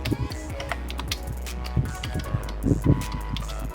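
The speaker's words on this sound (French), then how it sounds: "il suffit juste d'aller dans Google et de taper Kinder Bueno" Rapid, uneven clicking of keys on a computer keyboard, a steady stream of light taps with a few heavier strokes, close up over a low constant hum.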